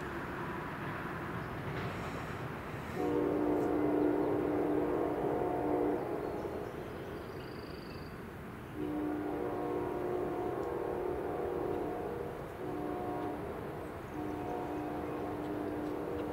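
A passing Amtrak passenger train rumbles steadily, its horn sounding in several long blasts, with a constant roar of wheels on the rails throughout.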